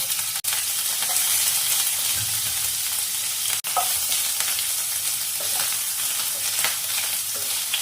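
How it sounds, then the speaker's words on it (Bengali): Grated coconut frying in hot refined oil in a wok, a steady dense crackling sizzle with occasional stirring scrapes, close and continuous without speech. "এবার নারকেলটা প্রথমে ভেজে নেব"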